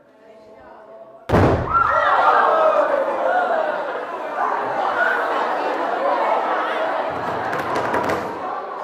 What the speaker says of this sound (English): you might have thought that that was a bang. You might have described that as an explosion